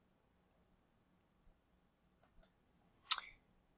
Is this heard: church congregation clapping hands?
no